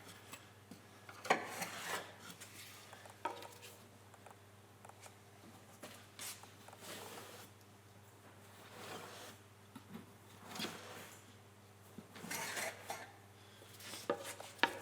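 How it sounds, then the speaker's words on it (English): An old sharp kitchen knife slicing through foam squares in a workshop, quiet rasping and rubbing strokes that come in uneven bursts with brief pauses between cuts, close and faint with no talking. "I'm just using a sharp knife, old kitchen knife, which I tend to use for foam and things in the workshop"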